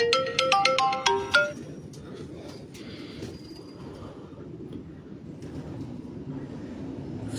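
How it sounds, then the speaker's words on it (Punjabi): A mobile phone ringtone plays a bright melodic tune for about a second and a half, then cuts off, leaving steady low rumbling background noise, apparently on a rooftop where pigeons are kept in Faisalabad. "ਫੋਨ ਨਹੀਂ ਚੁੱਕਣਾ ਹੁਣ"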